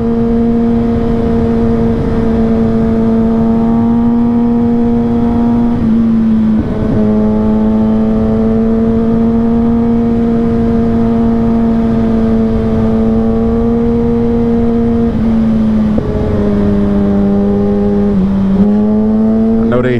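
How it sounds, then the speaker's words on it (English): A Kawasaki ZX6R motorcycle's loud, steady exhaust drones continuously at close range on dark backroads at night, with small shifts in pitch as the throttle changes. "When it's quiet out here at night, you hear that exhaust."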